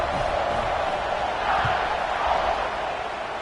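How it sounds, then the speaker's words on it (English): Steady stadium crowd buzz in a college football video game, NCAA 26, Arkansas against Alabama, a dense continuous roar of many voices filling the whole stretch at an even loudness, swelling slightly partway through. "this crowd is buzzing after that last score"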